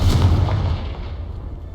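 A Confringo blasting spell detonates in the Hogwarts Legacy video game, one loud, deep boom up close that fades into a rumbling decay, with no talking.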